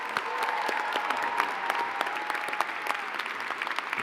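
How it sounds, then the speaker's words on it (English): A crowd at a university commencement ceremony gives a round of applause, steady clapping of moderate loudness that continues throughout with a slight crowd murmur underneath. "let's give Governor Sherrill one more round of applause"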